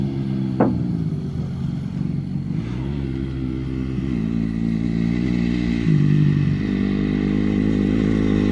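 A motorcycle rides past nearby with engine tone rising and falling as it revs and shifts, steady droning throughout with a few clattering bumps and no talk.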